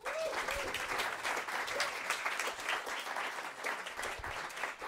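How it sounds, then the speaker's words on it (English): Steady, enthusiastic applause from a jazz club audience welcoming a drummer and bassist onto the stage, a dense continuous clatter of many hands filling the room. "Welcome them with an applause."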